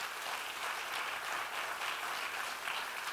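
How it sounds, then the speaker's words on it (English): An audience applauds at an event in Oslo, Norway, a dense, steady wash of many hands clapping at moderate distance, sustained without pause and with no talk over it. "A warm applause for Anne."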